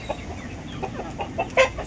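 Backyard chickens, native and upgraded native hens with a rooster, giving a string of soft short clucks with a louder squawk near the end, close by over faint outdoor background.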